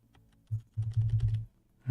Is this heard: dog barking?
no